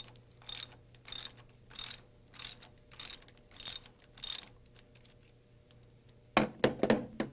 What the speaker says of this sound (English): Loosen the bolt on the slider ball ring clamp with 7/16" sockets.